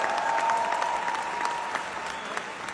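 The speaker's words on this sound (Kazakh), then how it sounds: "шапалақ." Loud, sustained audience applause fills a comedy competition hall, with dense, steady clapping from a large crowd that fades slightly toward the end.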